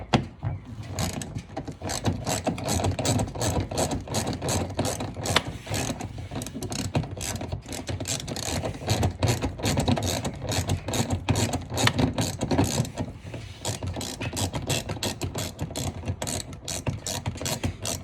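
A hand ratchet works long screws loose during a splash guard and side skirt install on a Dodge Challenger, its pawl clicking in fast, steady bursts for a long stretch at close range.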